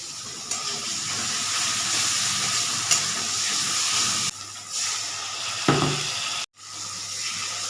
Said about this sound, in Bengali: আলু ভাজাটা বসিয়ে দিয়েছি।